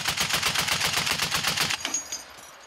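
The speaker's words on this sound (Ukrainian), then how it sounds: "Увага! Постріл!" Gunfire on a battlefield comes as a rapid, rhythmic burst of about a dozen close, loud shots, then cuts off into a brief fading echo.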